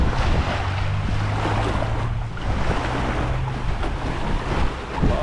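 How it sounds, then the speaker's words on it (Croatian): Sea waves wash onto a beach in Sithonia, Greece, a steady, dense roar of surf with wind buffeting the microphone, continuous and fairly loud with no voices. "Zvuk talasa"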